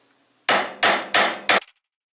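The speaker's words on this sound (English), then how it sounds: "Okay, so I'm going to go ahead and punch from the top now." Four sharp, evenly spaced metal hammer blows on a punch driving a roll pin out of a SAR9 pistol ring out close and loud, the last one followed by a quick bounce, then silence.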